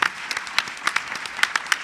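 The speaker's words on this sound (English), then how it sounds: "Can I have a little round of applause" A burst of audience applause, many hands clapping at once with sharp, uneven claps over a steady patter.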